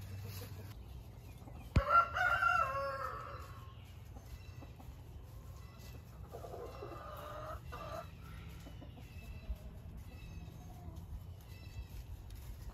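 Hens cluck and call nearby at a Texas subdivision homestead, with one loud squawk early on followed by softer, scattered clucking over a low background hum.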